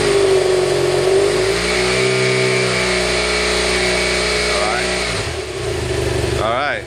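A 2013 BMW 800GS motorcycle with its stock exhaust, engine held at a steady loud rev close by, with a slight dip and rise near the end; a voice speaks briefly over it.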